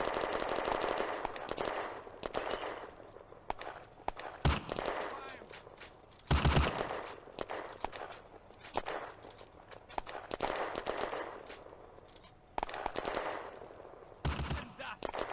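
Sustained machine-gun and rifle fire from a World War II Eastern Front battle in the Firefight video game, with rapid bursts and several heavier shots, continuous and loud, under occasional voices.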